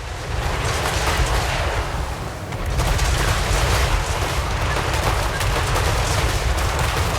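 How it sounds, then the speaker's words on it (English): Volleys from dwarf grudge throwers firing in Total War: Warhammer 3 during a battle against demons, a dense, continuous roar of launches and impacts with loud, overlapping bursts throughout. "and the grudge throwers kept on firing"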